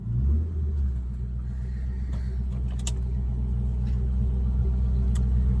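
Ford Focus twin turbo V engine rumbles steadily while the accelerator pedal is pressed, a deep continuous drone with only slight rises in pitch and no voices.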